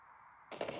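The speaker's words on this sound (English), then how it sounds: "The rumble too, when that firework went up." A firework explodes in the Nintendo Switch 2 Welcome Tour video game: quiet at first, then a sudden loud, crackling burst that carries on to the end.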